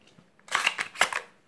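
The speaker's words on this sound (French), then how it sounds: "Et donc on va armer la réplique" An airsoft replica fitted with an Amoeba Striker hop-up is cocked by hand, giving a few quick close mechanical clacks and ratcheting scrapes in a short burst, loud against a quiet background.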